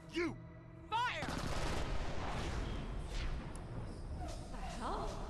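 Gunfire in the video game Borderlands: The Pre-Sequel, a dense, loud burst of shots starting after a second and running continuously to the end, with voices talking over it at the start and near the end.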